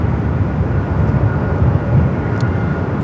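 A Southwest Boeing 737-800 at LAX on a gusty day gives a loud, steady jet engine roar. The low rumble stays dense for the whole stretch, with no voices over it.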